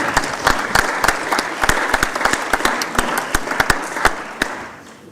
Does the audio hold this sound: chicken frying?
no